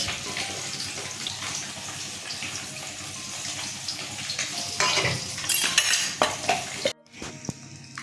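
Pieces of katla fish frying in oil give a steady sizzle, then louder stirring and clattering from pan and utensils, followed by a sudden break and a few softer knocks.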